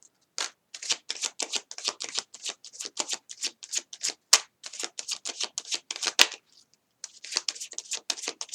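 Tarot cards being shuffled by hand, a close run of quick crisp riffling flicks in steady rhythm with one brief pause near the end.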